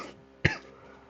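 A single short, sharp cough, close and fairly loud, standing alone against quiet background.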